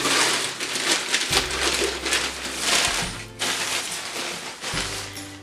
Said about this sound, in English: I'm trying not to talk while I crinkle because I know it's like really loud